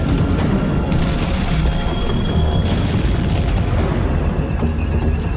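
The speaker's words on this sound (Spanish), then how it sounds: "El sonido de los disparos alerta al pelotón de cazacarros M-18 estadounidense." Gunfire and heavy blasts roar through a World War II tank battle in Lorraine, France, with booming reports piling into a dense, continuous rumble that never lets up.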